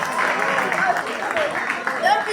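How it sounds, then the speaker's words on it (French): Children's applause after a correct riddle answer at a storytelling and riddle workshop, steady throughout, with voices and excited calls mixed in. "Applaudissez, c'était la bonne réponse."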